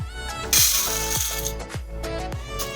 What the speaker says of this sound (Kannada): ಅದೇ ಕಪ್ಪಲ್ಲಿ ಒಂದು ಕಪ್ಪು ತೊಗರಿ ಬೇಳೆ ಹಾಕೋತಾ ಇದ್ದೀನಿ